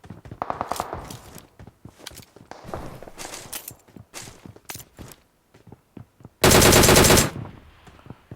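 DP-28 machine gun in PUBG Mobile fires rapid bursts amid in-game footsteps and movement, ending with one loud sustained burst of gunfire.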